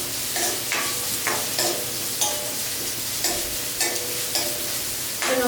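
Onions and chili sauté in a pan, with a steady sizzle broken by regular scraping stirs of a spatula about twice a second, close by and with no talk.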